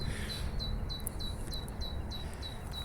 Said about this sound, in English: Now can you hear that bird? Tick, tick, tick, tick, tick, tick, tick, tick, tick. That's a tit.